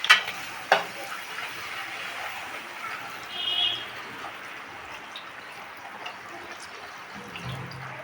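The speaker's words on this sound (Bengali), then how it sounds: "এখানে 5 রকম ভাজার প্রিপারেশন চলছে" Food for a home puja feast fries and is stirred in a pan, a soft continuous sizzle with a couple of sharp clanks at the start, faint background chatter and a brief bird call.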